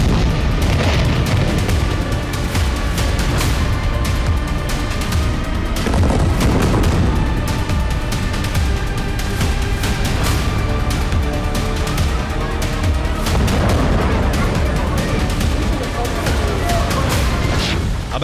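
Heavy bombardment over Gaza's residential areas as war footage: loud, dense rumbling blasts and booms rolling continuously, with sharper crackling bursts throughout.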